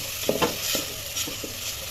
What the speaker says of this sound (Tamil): இது நல்லா வதங்குது.